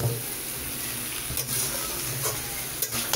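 Cabbage frying in a pan hisses steadily at low volume under repeated spatula strokes that scrape and clatter every second or so, close by, with a low background hum and no talking.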